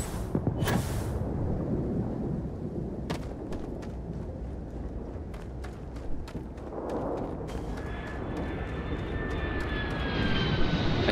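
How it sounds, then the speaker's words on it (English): A spaceship descends from orbit in Starfield, a steady roaring engine rumble with sharp clicks and bursts, followed by a rising high whine near the end, fairly loud and continuous without talk. "I hear something coming in from orbit."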